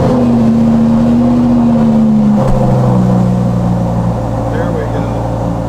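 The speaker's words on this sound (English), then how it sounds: "So I'm going to fire it up and get a cold start." A Lamborghini engine cold-starting inside a home garage, loud and close, with a steady droning roar and a tone that drops and shifts as it settles into a high idle, while a person talks over it.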